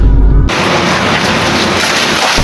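Heavy rain falls outdoors near a park: a loud, steady broadband hiss that starts abruptly after a short low rumble and continues evenly, with no clear voices.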